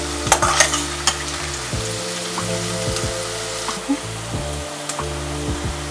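Cashews and mixed vegetables sizzle steadily in a hot pan for keto upma, with repeated clattering stirs of a spoon scraping through the pan, close and fairly loud with no talking.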